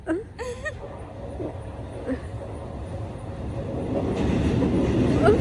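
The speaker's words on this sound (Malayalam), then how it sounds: "പാലത്തുമ്പ നിന്നിട്ട് ട്രെയിൻ എക്സ്പീരിയൻസ് ചെയ്യാൻ" Brief voices and a squeal give way to a train's rumble that grows louder and heavier as it rolls over a bridge close by in Aluva, Kerala.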